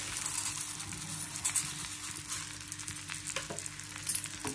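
Moong dal is stirred and fried in a pan, a soft, fairly faint sizzle with occasional scraping stirs and a low steady hum beneath; no talking.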